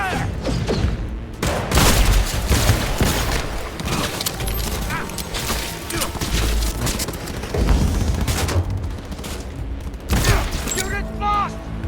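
Rapid bursts of automatic gunfire and impacts in Cyberpunk 2077, loud and repeated across the whole stretch, with voices shouting in the game over the shooting.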